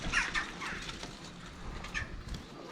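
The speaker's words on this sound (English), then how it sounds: "You can hear all the birds roosting." Birds roost in the gaps of the stone walls at Kidwelly Castle, giving faint, scattered chirps and clucks with some soft flutter in a quiet, echoey space.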